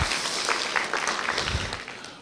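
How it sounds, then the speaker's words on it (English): Brief, moderately soft applause from a seminar audience for the translators, scattered clapping that fades quickly. "Can we give the translators a round of applause back there"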